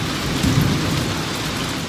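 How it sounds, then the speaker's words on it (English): Steady rain pours in a dense hiss while thunder from a far-off storm rolls low and faint beneath it, heard outdoors along the Katy Trail. "That thunder's very far away."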